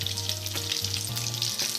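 Stuffed bread rolls fry in a pan over a medium flame, giving a close, steady sizzle with crackling pops and a low cooking hum underneath.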